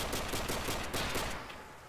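A weapon in Call of Duty: World at War fires a rapid, steady burst of shots lasting about a second and a half, loud and continuous, with no talk over it.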